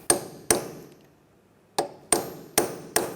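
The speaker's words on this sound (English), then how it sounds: "take a punch or a chisel and just peen over the edge where it was peened over before" Metal punch or chisel struck with a hammer to peen over the hub nut edge on a 2007-2013 Mini Cooper front wheel bearing hub: six sharp, ringing metallic hits, two, a pause, then four in quick succession.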